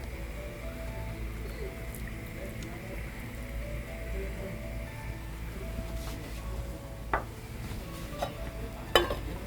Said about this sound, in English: And of course we'll add my peas.